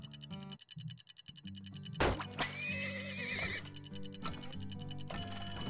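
A horse whinnies loudly in the video game Turmoil over a busy game soundtrack with ticking clock-like beats and clip-clop hooves, the neigh rising and wavering for about a second.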